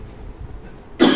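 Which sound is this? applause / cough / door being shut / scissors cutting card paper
cough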